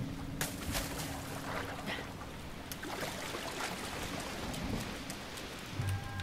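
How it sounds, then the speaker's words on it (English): Steady rain falls in Zelda: Breath of the Wild, a dense, continuous hiss of drops hitting the ground, with a few sharper patters and a low rumble underneath throughout. "it's starting to rain."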